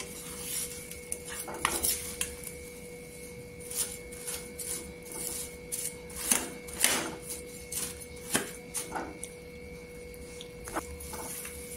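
A utensil stirs and scrapes a thick mixture with flattened rice in a pot, irregular knocks and clinks against the metal at close range, with a faint steady hum behind.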